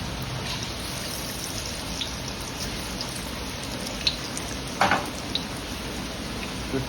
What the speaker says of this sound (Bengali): তো চিকেনটা ততক্ষণ ফ্রাই হোক